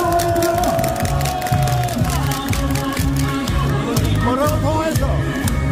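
A large crowd at an election campaign rally outside a market entrance cheers and chants in a loud, rhythmic pulse, with an amplified voice and general babble mixed in.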